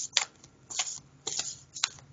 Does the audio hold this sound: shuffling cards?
yes